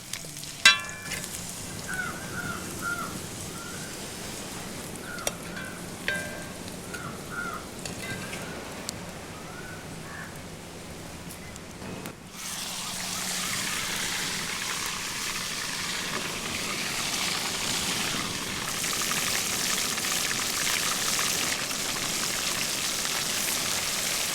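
Oil crackles and sizzles softly at first with scattered pops, then a fuller, denser frying hiss rises and holds steady as fish eggs fry crisp in the oil.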